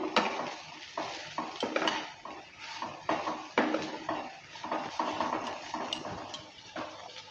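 A utensil stirs chopped cucumber into veg chowmein in a pan, making repeated close metallic scrapes and clinks in an uneven rhythm, with a faint sizzle and no voices.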